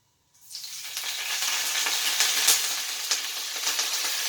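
Lacinato kale greens hit a hot skillet and start sauteing: after a brief moment of quiet, a loud, steady sizzle rises and holds, with small crackling pops.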